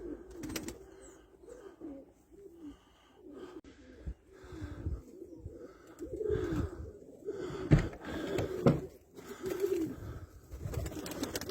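Several pigeons coo in low, rolling bursts close by, with occasional wing flutters and rustling between the calls.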